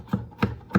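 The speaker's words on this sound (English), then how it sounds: "I'm going to throw my knife through this one more time." A knife mincing food on a cutting board makes three sharp, evenly spaced chops, close and distinct, with no talking.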